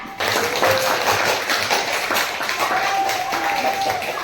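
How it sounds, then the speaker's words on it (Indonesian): A classroom claps for a presentation group: a burst of mixed hand claps from students, fairly close and steady for a few seconds, with some voices underneath. "kasih tepuk tangan untuk kelompok 4"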